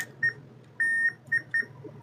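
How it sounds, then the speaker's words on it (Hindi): Continuity tester beeps as a push button switch is pressed, four clear electronic tones, one held longer than the others, over a low steady hum with no talking. "मैं इसको पुश कर रहा हूं तो बीप आप सुन सकते हैं"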